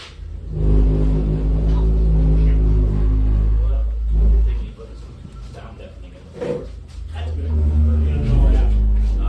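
A car engine revs hard in deep, rumbling bursts that rise and fall during a burnout in a driveway in the rain, with voices talking in between.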